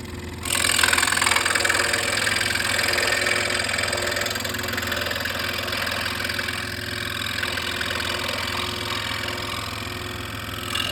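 A scroll saw starts up and runs steadily while cutting a silhouette, its buzzing motor and rapid reciprocating blade making a constant, close, even rattle with no talk.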